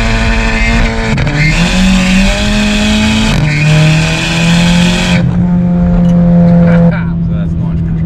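A Stage 3 VW Golf MK7 launches hard under launch control with its wheels spinning. The close, loud engine roar climbs in pitch, drops at two quick gear shifts, then settles into a steadier drone.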